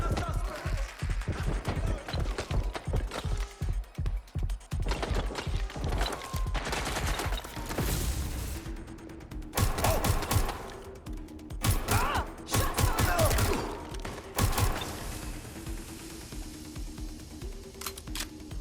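Watch Dogs Legion gunfire, with rapid rattling bursts early on, then heavy clustered volleys, loud and close with a few pauses between.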